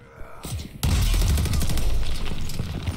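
Dense, loud burst of automatic gunfire in the Call of Duty Vanguard campaign, erupting abruptly after a quieter lead-in and continuing as a sustained fusillade of rapid shots with booming low-end impacts.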